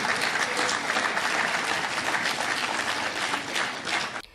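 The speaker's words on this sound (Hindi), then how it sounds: "तालियां बजती रहीं" Sustained applause from an audience at a talk on transgender rights and citizenship law, dense steady clapping filling the whole stretch before cutting off abruptly at the end.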